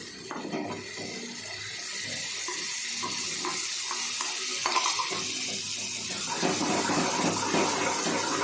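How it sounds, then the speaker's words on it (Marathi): A continuous sizzle and hiss of onion-tomato paste frying in a pan, with occasional stirring scrapes, close and steady. "आता ह्याला चांगलं परतून घ्यायचं, जोपर्यंत कांदा टोमॅटोला पाणी सुटत नाही तोपर्यंत छान परतून घ्यायचं"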